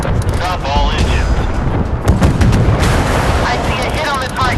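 Warship guns booming continuously in the naval video game Force of Warships, dense loud rumbling blasts and explosions layered over one another, with a voice briefly speaking over the battle.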